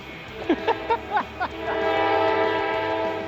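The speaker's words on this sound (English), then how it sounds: "that train is really loud" A train horn blares in several short blasts, then settles into a steady loud rumble as the train rolls past nearby.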